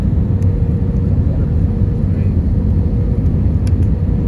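Steady, loud low rumble of a jet airliner's engines filling the cabin, continuous and even throughout with no talk.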